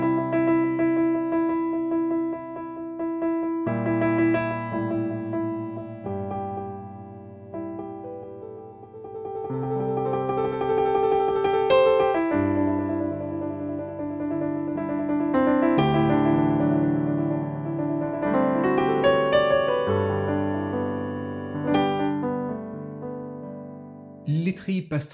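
Fast trills and rapid repeated notes played on a Yamaha P-145 digital piano, a steady, bright stream of quick alternating tones with sustained chords underneath, continuous and close.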